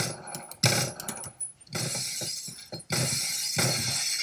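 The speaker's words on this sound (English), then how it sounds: "we like breaking windows" Glass windows shatter in the Phantom Forces video game, several sharp crashes and tinkling bursts in quick succession amid gameplay noise, loud and close.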